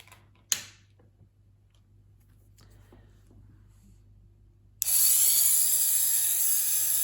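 After a sharp click and quiet handling, a small electric nail drill with a diamond bit whirs on at high pitch and keeps spinning steadily, close by.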